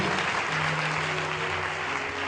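A congregation at a bishop's investiture applauds in a dense, continuous roar of clapping that fills the whole stretch at steady loudness.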